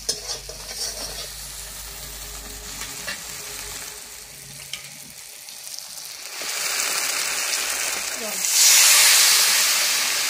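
Mustard and poppy seed paste going into a pan of frying tomato puree for a pabda fish curry, with stirring scrapes and a steady sizzle that surges louder and hissier near the end, close up.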